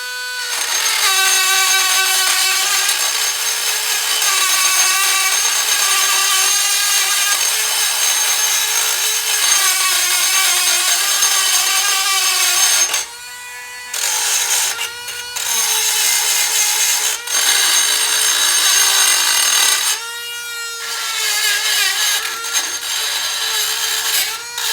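A power tool scrubs rust off a brake mounting bracket from a 2013 Kia Sportage, grinding in a loud, steady whine with rising and falling pitch, broken by a few short pauses and restarts.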